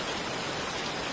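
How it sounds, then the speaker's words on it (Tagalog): Heavy typhoon rain pours steadily in Cainta, a dense, even hiss of downpour with no voices. "Malakas naman ang ulan dahil sa bagyo."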